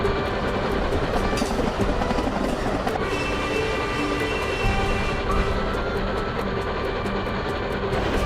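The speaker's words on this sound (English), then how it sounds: "the train sped up the hill" A train runs up a hill along the rails with a loud continuous rumble and rhythmic clickety-clack, a brief horn-like tone appearing midway, steady and close throughout.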